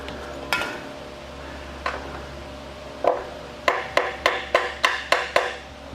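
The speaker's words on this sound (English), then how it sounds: "hit it with the hammer" Sharp metallic taps from a hammer on a fourth-generation Pontiac Trans Am, a few spaced strikes at first, then a quick steady series of evenly timed hits.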